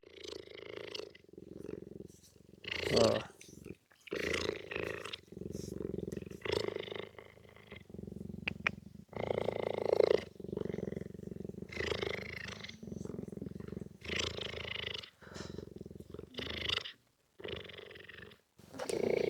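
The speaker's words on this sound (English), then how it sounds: "the sound he's busy making, he's purring like a house cat" A lion purrs in deep, rumbling pulses, steady and close, with a rhythmic in-and-out cadence over a quiet background, in South Africa.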